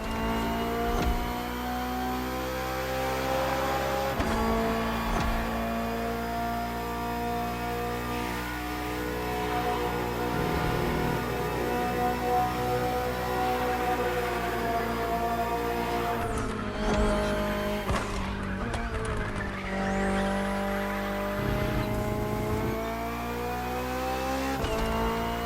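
A BMW M Hybrid V8 endurance race car from 2023 in The Crew Motorfest, its engine droning loud and steady at high revs, with gear shifts, revving swells and a brief tire squeal.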